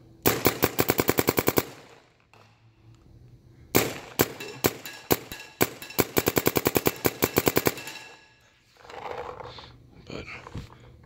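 Luxe 1.5 paintball marker firing indoors, loud sharp shots in two rapid rattling strings with a short pause between, echoing in the room, followed by quieter handling noise.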